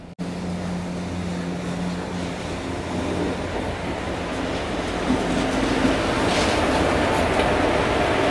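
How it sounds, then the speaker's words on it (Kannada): A train pulling into a railway station gives a low, steady rumble that grows slowly louder and heavier as it approaches. "ಇಲ್ಲಿ ಯಾವುದೋ ಒಂದು ಟ್ರೈನ್ ಬರ್ತಿದೆ"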